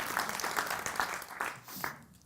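Audience applause after a talk on workplace happiness, a moderate patter of clapping that fades toward the end, with a faint voice in the mix.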